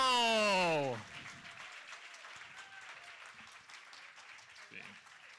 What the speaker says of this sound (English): let's give another round of applause for our panel